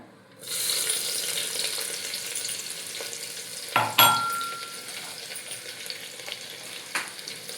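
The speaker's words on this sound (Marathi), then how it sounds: "मोहरी टाकली आणि आलं लसूण ठेचून घेतलेलं टाकते आता" Mustard seeds, crushed ginger and garlic sizzle loudly in hot oil for a spiced rice dish, a steady crackling fry that swells into a sharper burst midway as ingredients hit the pan, then settles back to a constant hiss, with no talking.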